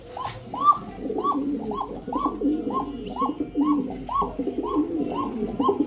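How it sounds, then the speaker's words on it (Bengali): Giribaz pigeons coo in a loft: a close, clear series of about a dozen rhythmic, repeated coos, evenly spaced and moderately loud. "চলেন কবুতরগুলো দেখাই।"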